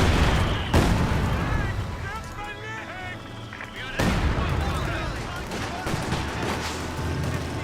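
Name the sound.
three mortars firing in the video game Company of Heroes 2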